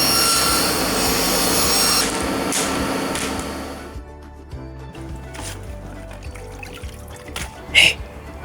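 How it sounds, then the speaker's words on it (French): Rough, rasping strokes of a hand saw cutting wood for trapper snowshoes, steady for a couple of seconds, then quieter scraping and knocks with a sharp bump near the end. "je scie"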